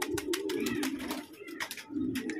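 Pigeons coo close by, a low, rounded, repeated warble running through the clip with brief pauses, mixed with sharp flutters and small knocks from birds perched nearby.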